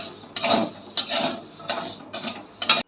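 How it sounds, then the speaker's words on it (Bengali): Moong dal being dry-roasted in a pan gives rhythmic rasping, rustling scrapes as a spoon stirs it, about four strokes close by with short pauses, and no talking. "দেখো আগে মুগ ডালটা ভেজে নেবো খিচুড়ির জন্য।"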